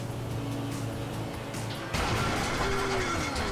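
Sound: boat engine breaking down in video game

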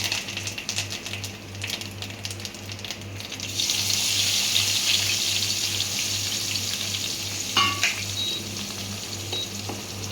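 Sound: tempering stale rice, frying in a pan

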